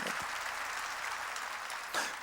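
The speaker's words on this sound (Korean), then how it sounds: "믿으면 박수야" Church congregation applauding during a sermon, a steady, fairly distant patter of many hands clapping, with a slightly louder swell near the end.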